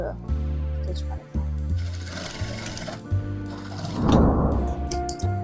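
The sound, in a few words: sewing machine stitching a frock side seam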